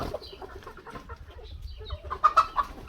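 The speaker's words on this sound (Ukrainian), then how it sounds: "От півники такі." Chickens clucking and calling nearby, including young roosters about 90 days old, several short squawks and murmurs, with a couple of louder rooster-like cries near the end.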